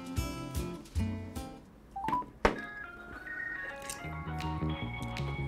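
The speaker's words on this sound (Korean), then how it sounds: "이탈리아에 전화를 해보면 알지." Telephone dialing tones sound as a call is placed to Italy: a few thunks and short beeps, then a run of bright keypad tones and a steady ringing tone that carries to the end.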